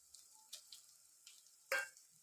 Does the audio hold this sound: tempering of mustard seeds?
yes